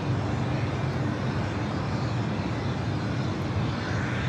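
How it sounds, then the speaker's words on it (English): An Asiana airliner taxiing at Los Angeles LAX airport, heard as a broad, steady jet engine rumble that stays at an even level for the whole stretch. "we got Asiana now taxiing"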